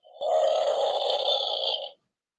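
A human voice imitating a Bigfoot roar: one loud, sustained, raspy growling roar lasting nearly two seconds, close and alone.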